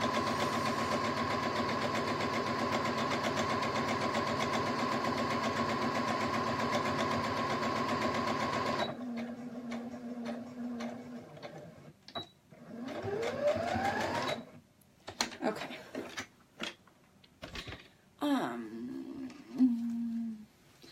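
Sewing machine running steadily while pillowcases are sewn, a loud continuous motor hum for about nine seconds that then stops, followed by scattered handling noises and shorter bursts.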